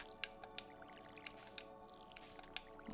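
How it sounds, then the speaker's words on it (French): Crops being watered in the video game Stardew Valley, heard as a series of faint, soft watery splashes and drips at irregular intervals over a quiet steady background. "je vais commencer par arroser les petites plantations qui restent"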